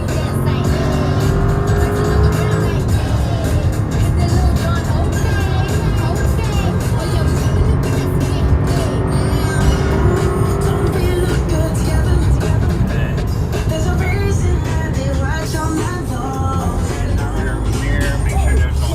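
A 2008 Cadillac STS with a 4.6L V8 and a newly replaced radiator cruises down the road, a steady loud engine and road drone filling the interior with a constant rumble throughout.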